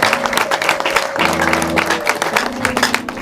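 Applause for a choir at a church gathering, dense clapping from the congregation heard alongside sustained musical tones and voices.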